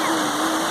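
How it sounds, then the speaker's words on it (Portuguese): Steady, broadband rush of a waterfall, a cold stream at a fishing spot, continuous and close, with no talking over it. "Pesqueiro Triângulo, cachoeira, ó."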